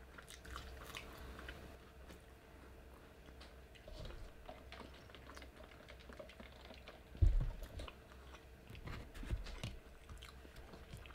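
Crunchy Church's fried chicken is bitten and chewed up close, with quiet repeated crackling crunches and one sharper bite partway through, no talking.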